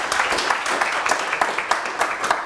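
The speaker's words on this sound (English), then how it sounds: "Let's please give her a round of applause." A seminar audience claps after a bioengineering research talk, a dense, steady patter of many hands at moderate distance lasting a couple of seconds.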